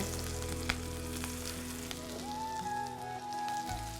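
Green chillies with cumin seeds sizzle steadily in hot oil, a continuous close frying crackle with small pops and a faint clink near the end.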